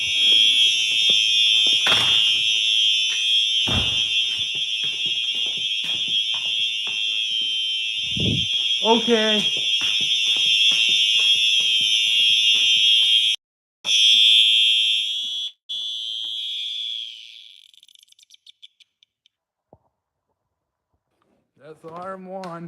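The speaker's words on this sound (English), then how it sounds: "That's alarm one." Smoke alarm being tested, a loud continuous high-pitched shriek running steadily for about thirteen seconds, then stopping and briefly stuttering, with a dog barking and someone talking throughout.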